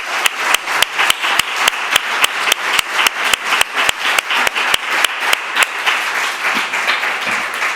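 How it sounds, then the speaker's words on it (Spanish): An audience at the closing session of a conference on responsible work-life balance in Vitoria-Gasteiz applauds an artist. Loud, sustained clapping from a crowd mixes with sharp, evenly spaced claps near the microphone and tapers slightly toward the end. "Pues yo pido un aplauso para nuestra artista."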